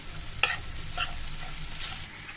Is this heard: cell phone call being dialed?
no